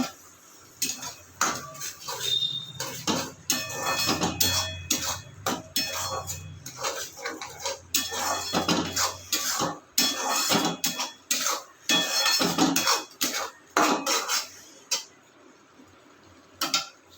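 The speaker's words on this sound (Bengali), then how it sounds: "এবার একটু ভালো করে একটু কষিয়ে নেব।" A spoon clinks and scrapes against a pan while cumin and coriander masala is fried for an okra curry, giving irregular metallic taps and scrapes, fairly quiet, with pauses between bursts.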